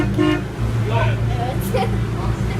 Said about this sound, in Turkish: Bakın arkadaşlar, ben kullanıyorum kornamız.